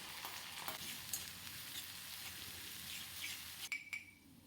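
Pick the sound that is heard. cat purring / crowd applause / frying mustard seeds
frying mustard seeds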